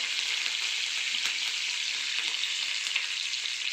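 Curry leaves and chopped onion frying in hot oil with peanuts for a spicy crumbled chapati dish, giving a steady, loud, dense sizzle that holds evenly throughout, with no voices.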